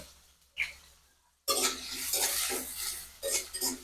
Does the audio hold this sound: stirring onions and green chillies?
yes